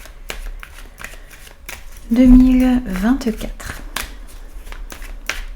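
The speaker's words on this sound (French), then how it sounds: "on va placer les cartes pour vous" Tarot cards being shuffled in a quick riffling burst, then laid out with soft slaps and flicks, all close and under someone speaking continuously.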